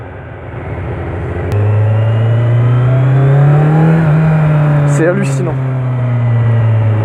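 A Kawasaki Z900 motorcycle engine, a roughly 1000 cc bike, pulls hard from around 3000 rpm, its note climbing and holding strong and close, with someone talking briefly over it.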